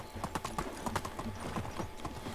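A donkey ridden in the medieval farming game Medieval Dynasty walks along, its hooves making a steady, fairly quiet clip-clop rhythm of close, regular footfalls.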